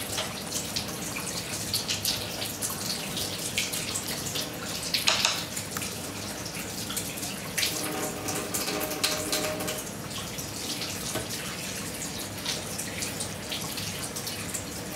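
Tap water runs steadily over freshly cut one-inch chunks of fish as they are rinsed, a continuous close splashing and trickling with brief heavier gushes, no talking.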